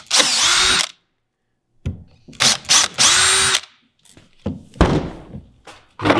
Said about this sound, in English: I drill the two outside holes first.